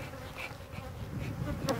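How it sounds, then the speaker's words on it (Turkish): Honeybees buzz around a hive, a dense, continuous drone of many wings close by, with no voices. "Sonunda etrafında onlarca arı uçuyor."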